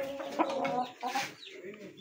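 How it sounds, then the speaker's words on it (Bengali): An aggressive, combative hen clucks in quick, agitated bursts, close and fairly loud, with rough harsh calls running through the whole stretch and a short break in the middle. "মুরগিটা অনেক রাগী মুরগি, খুব ভালো ফাইট করে মুরগিটা"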